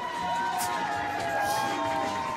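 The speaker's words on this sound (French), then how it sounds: "fait son apparition sous les applaudissements d'une foule en délire" A crowd cheering and applauding wildly for an Elvis impersonator making his entrance, a dense continuous roar of voices and clapping with a few sharper claps and shouts standing out.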